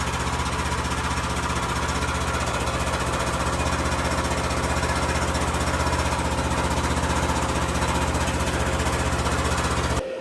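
A tractor engine runs close by with a loud, steady chugging rumble that stays constant throughout, cutting off abruptly at the end.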